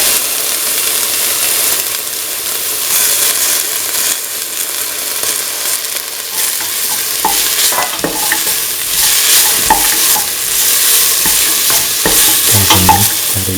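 Fennel seeds, coriander seeds and shallots fry in hot oil for a mint cottage cheese coconut milk stew, with constant loud sizzling, scraping stirs and spoon clatter close by, growing busier toward the end.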